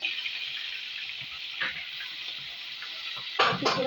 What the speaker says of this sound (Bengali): শাক ভাজা হচ্ছে